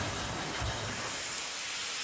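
Steady broadband steam hiss from Fenchurch, a small Stroudley Terrier steam locomotive, close and continuous with a low rumble beneath that fades partway through.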